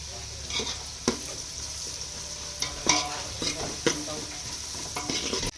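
Curry leaves tossed into hot oil crackle and sizzle steadily while a spoon stirs, with sharp scraping strokes against the pan recurring every second or so, close and moderately loud.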